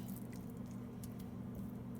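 Raw lamb rubbed with oil by hand, working it into the meat and fat, gives soft, continuous wet squishing and slick patting, close and quiet, with a steady low hum underneath.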